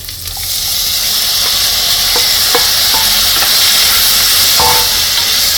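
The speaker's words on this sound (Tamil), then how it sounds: "தக்காளி நல்லா வதக்கிக்கோங்க" Tomatoes and small onions sauté in a pan with a loud, continuous sizzle and steady hiss. Occasional spatula taps cut through while the mix is stirred.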